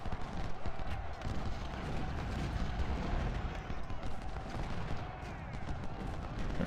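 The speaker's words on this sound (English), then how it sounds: "That artillery is fighting too damn well for an artillery crew" Artillery fire in Ultimate General: Civil War at the Battle of Chickamauga, a steady dense rumble of cannon and musket fire continuing throughout, with a voice talking over the battle noise.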